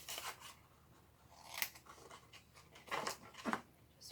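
Scissors cutting a small rectangle out of paper for a gift bag, a few faint, crisp snips and rustles spaced irregularly over a quiet background.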